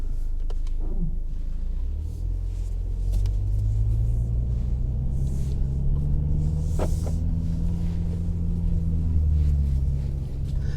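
A 2020 MINI JCW Clubman in sport automatic pulls away on a cold Kansas morning. Its engine gives a steady, heavy rumble, and the droning pitch rises and falls as it accelerates, heard from inside the car with no talk.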